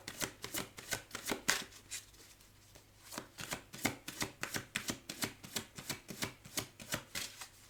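Playing cards are shuffled and drawn close by in a steady train of quick riffling flicks, with one brief pause, heard alone with no voices.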